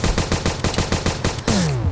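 Rapid bursts of weapon fire from the video game Starbound ring out loud and close in a quick regular stream of about a dozen shots, followed by a descending electronic whine, with no talk.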